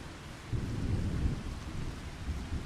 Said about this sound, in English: I hear rain. I hear thunder,